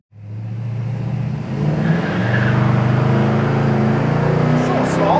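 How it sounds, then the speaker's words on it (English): 1971 Chevy Monte Carlo with a small block V8 starting off and driving, a deep steady engine rumble that swells as it accelerates, heard from inside the car. "This little small block rolls, doesn't it?"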